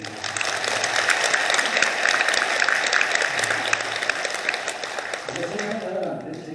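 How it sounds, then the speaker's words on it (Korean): Monks in an audience clapping at a Buddhist special dharma talk, a dense, sustained round of applause from many hands, fairly loud and even throughout. "주의 스님들 큰 박수 한번 보내주세요."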